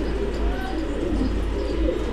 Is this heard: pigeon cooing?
yes